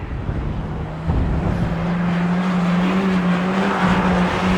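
Autograss race cars lapping a dirt track at St Neots, engines droning loudly at mid distance with a steady roar that swells as a car comes round, a faint tyre squeal mixed in, no talk.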